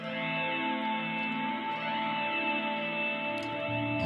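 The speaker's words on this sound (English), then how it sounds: "What we're going to do now is engage the reverb." Electric guitar played through a BOSS GT-1000 multi-effects unit with reverb engaged, sustained ringing chords with a washy, swirling tail that fills the space, loud and alone with no talking.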